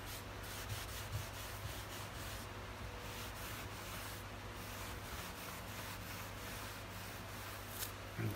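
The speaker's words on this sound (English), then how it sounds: "what I'll do is use the roughness of the old gnarly towel" Steady rubbing of an old rough, gnarly towel over a stripped walnut cabinet, a continuous close scratchy swish that runs evenly with no pauses.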